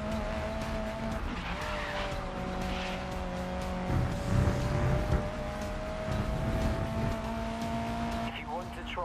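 A race car revs and drives in GRID Legends, a steady loud engine drone with gear shifts and a tyre squeal as it corners, with someone talking over it.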